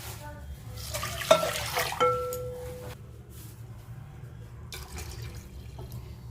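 Water splashes from a vessel into washed mung dal lentils in a pot, in a short pour with a few clinks, then a quieter watery bubbling background.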